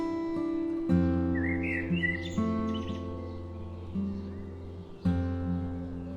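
In an animated children's story about sparrows and a magical mango tree, small birds chirp in short, bright twittering bursts over sustained background music with note changes.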